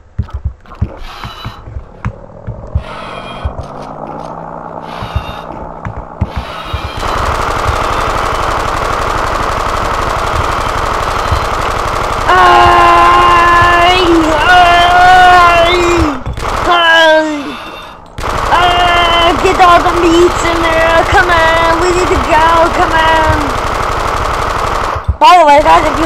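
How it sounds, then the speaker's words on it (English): A machine gun fires repeatedly in the video game Blood and Bacon. The rapid bursts come in long, loud stretches with brief gaps, and someone talks over the gunfire at points. "You're not hearing me over this dang gun."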